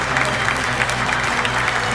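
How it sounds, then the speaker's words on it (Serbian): Studio audience at an evening television quiz show applauds in a steady, dense burst of clapping that is fairly loud and sustained throughout. "Vrlo lep aplauz dobijate od publike večeras"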